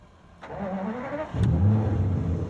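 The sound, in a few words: Aston Martin DB9 Volante engine starting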